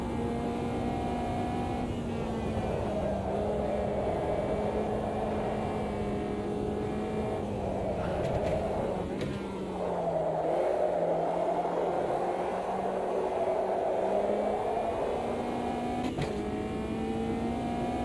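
Caterham race car engine in the sim racing game Automobilist 2 (AMS2), a sustained droning whine rising and falling through revs and gear changes, heard alone and close for the whole stretch.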